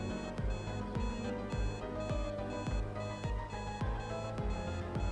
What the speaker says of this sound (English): we're just going to wait for him to turn off the alarm clock